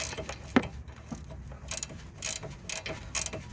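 A hand ratchet clicks in short bursts while tightening a nylon nut on the anti-roll bar link of a Mercedes B-Class W245, close up, with metallic rattles and pauses between strokes.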